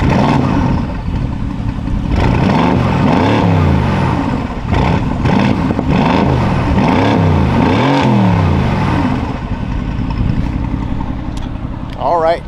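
A modified Mercedes-AMG GT S with a loud aftermarket exhaust revs repeatedly, its engine note rising and falling in several sharp blips close by, with wind noise and someone talking over it.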